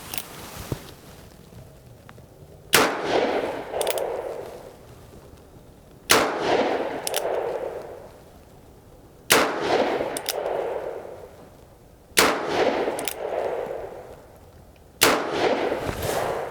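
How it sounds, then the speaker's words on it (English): An EMF Great Western Californian 1873 Single Action Army revolver fires five slow, deliberate shots about three seconds apart, each a sharp, loud crack followed by a booming echo that fades before the next shot. "We're just going to go ahead and take our time with these and take the shots."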